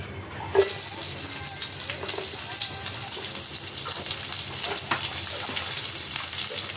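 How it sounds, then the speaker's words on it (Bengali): Chopped onion drops into hot oil in a wok, bursting into a sudden hiss that settles into a steady, crackling fry with scattered pops throughout. "কড়াইতে আবার তেল দেবো দিয়ে এখন দেবো পেঁয়াজ কুচানো"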